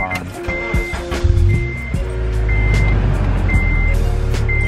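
Repeating electronic warning chime from a 2004–2008 Acura TSX signalling an open door, steady evenly spaced tones sounding over a low hum from the car, close and clear.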